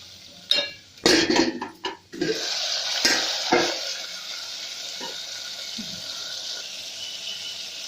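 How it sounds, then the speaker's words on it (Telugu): Potato and tomato fry for upma in a covered pan on the stove, with a few sharp clanks of the lid and utensils at the start, then a faint, steady sizzle. "ఆలుగడ్డ, టమాటో ఇవన్నీ వేసి కలుపుకోవాలి. 2 నిమిషాలు క్యాప్ పెట్టి వేగనివ్వాలి."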